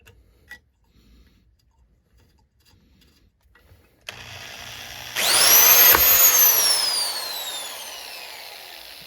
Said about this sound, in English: out the center of the bolt until there's nothing left, with progressively larger and larger drill bits. So I'm going to start with the smallest one I have.